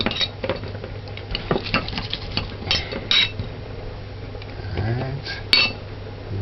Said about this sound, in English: first thing first, smash the garlic to pieces.